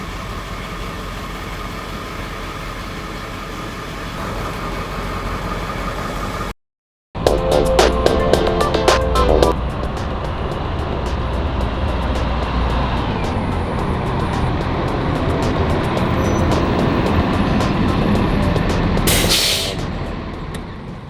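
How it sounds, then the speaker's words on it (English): A school bus engine rumbles loudly nearby, idling and then pulling away, with a short break in the sound, a brief clatter and a hiss like an air brake near the end. "let's get this bus moving"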